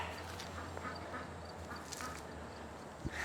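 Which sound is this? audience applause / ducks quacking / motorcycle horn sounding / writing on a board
ducks quacking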